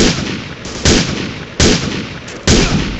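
Sniper rifle fire in the Marine Sharpshooter 4 video game: three loud, sharp shots spaced nearly a second apart, each trailing into a rumbling echo and steady battlefield din.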